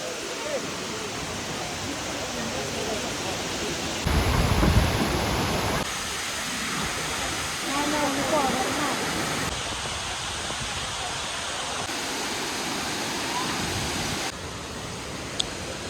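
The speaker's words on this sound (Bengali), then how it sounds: "এই হলো ছোটোখাটো ওয়াটারফল বেশি বড় না" A small stepped waterfall in Laos, crowded with visitors near a little bridge, gives a steady broadband rush of flowing water that stays even and continuous throughout, with a brief louder surge partway through.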